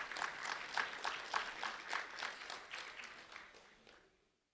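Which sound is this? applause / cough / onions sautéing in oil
applause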